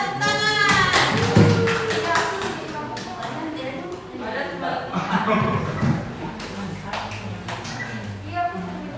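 Primary-school pupils in an Indonesian classroom clap for group 5: quick, sharp, loosely rhythmic claps come in bursts, mixed with children's voices and chatter throughout.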